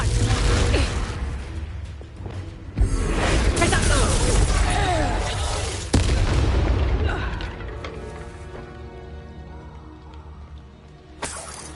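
Blasting curse explosions cast in a Harry Potter video game: booming blasts with whooshing and shattering debris, sharp hits near 3 and 6 seconds, and a voice calling out spells over the loud, dense action.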